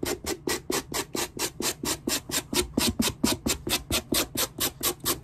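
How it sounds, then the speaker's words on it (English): A tool rasps and scratches across a leather shoe sole to roughen it for gluing, about twenty-five quick, regular back-and-forth strokes, close and steady with no talking. "So you take one of these tools and you scratch the shit out of it."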